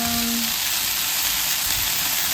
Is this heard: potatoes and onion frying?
yes